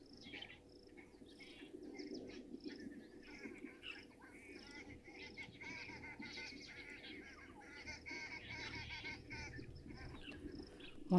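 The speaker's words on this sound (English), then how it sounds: "One of my favorite birds calling now as well, the green wood hoopoe." Noisy, chattering calls of a green wood hoopoe carry on steadily over a constant insect trill, with faint voices now and then in an outdoor setting.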